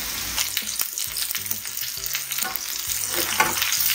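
Egg fried rice frying in a pan, Chinese takeout style, with a bright continuous sizzle and intermittent scraping and knocks of a utensil, fairly close.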